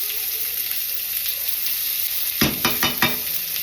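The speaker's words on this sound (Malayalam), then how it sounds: "അതിലോട്ട് 1 സ്പൂൺ ചോപ്ഡ് ജിഞ്ചർ, ഗാർലിക്." Chopped ginger, garlic and white onion frying in a pan give a steady broadband sizzle, then a short burst of louder spatters and stirring scrapes near the end, close by.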